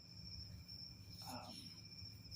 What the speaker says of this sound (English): I can hear all kinds of crickets.